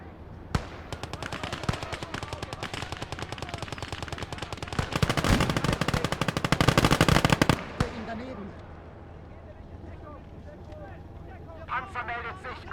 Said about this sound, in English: Take out that Maxim gun.